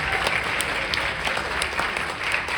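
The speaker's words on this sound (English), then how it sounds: "Round of applause for Sam." An audience applauds the trumpet player of a school jazz band, dense steady clapping from a nearby crowd filling the whole stretch without pause.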